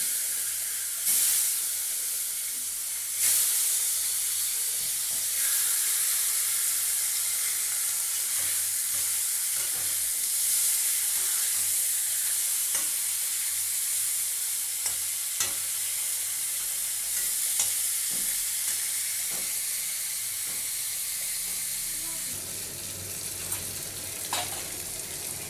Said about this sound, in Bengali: আমার মাছের মাথাটা ভাজা হয়ে গেছে, তুলে নিচ্ছি।